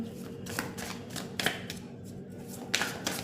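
Tarot cards drawn and handled by hand, giving a few soft papery flicks and snaps spread over a low steady room hum, no talking.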